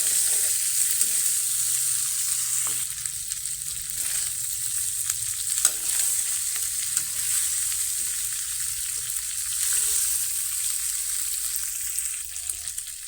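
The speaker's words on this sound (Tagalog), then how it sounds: "mikos-mikos para maghalo yung ating ginisang bawang sibuyas at" Garlic, onion and ginger sautéing in a pan while being stirred, a continuous bright sizzle with small irregular scrapes from the utensil, close and steady throughout.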